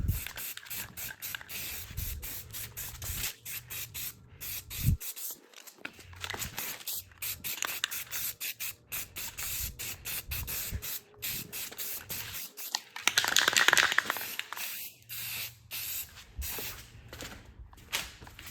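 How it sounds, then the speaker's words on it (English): Midnight Blue spray paint hisses from an aerosol can onto a Motovox mini bike frame in a rapid series of short close-up bursts, with one longer, louder spray near the end. "So, let's do a quick coat of this."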